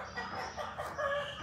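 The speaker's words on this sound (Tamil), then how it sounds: "இங்கே வீடியோ எடுத்துகிட்ருக்கேன், பக்கத்தில் ஒரு கோழி" A hen clucks close by in a household yard, giving a few short, throaty clucks and a rising call in quick succession with no talking.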